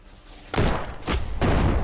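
Three loud, heavy blasts go off in quick succession in the turn-based game Shardpunk, each a broad, booming burst like gunfire or explosions, filling the short clip with no talk.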